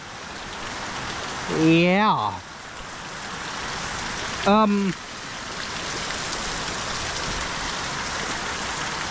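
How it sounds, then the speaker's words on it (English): Heavy rain pours in a steady, dense hiss outdoors, with a person speaking briefly twice over it. "if that don't give you an idea how hard it's raining"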